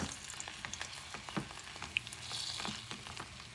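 Butter and a splash of vinegar hitting a hot pan over medium-high heat, a dense steady sizzle with scattered pops and crackles, close and fairly quiet, no talking.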